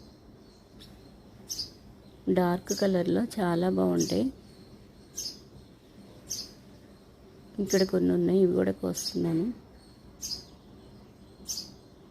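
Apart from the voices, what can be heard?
birds and sparrows chirping near garden plants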